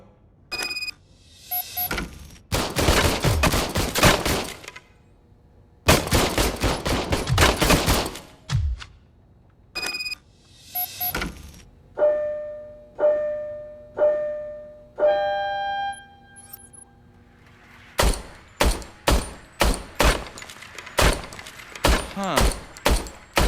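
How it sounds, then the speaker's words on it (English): An old service pistol fires in RoboCop: Rogue City in several loud, close bursts of rapid shots, separated by quieter mechanical clicks and tones, then ends with a string of sharp single shots. "I was issued this old gun and serviced it according to the manual. I will try it out."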